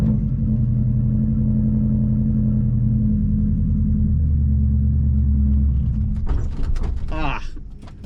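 A rally car's engine idles and rumbles steadily with low harmonic drone while a learner eases the clutch at rally school, then a short burst of speech and creaks as it moves off.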